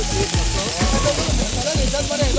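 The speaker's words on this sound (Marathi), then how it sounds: "सुंगटाक रशद मसालो बरो मॅरिनेट करून रवो लावून सुंगटां फ्राय करपाक घेतलेली आसा" Prawns marinated in reshad masala and coated in rava fry in hot oil, giving a steady, loud sizzle and crackle close by throughout.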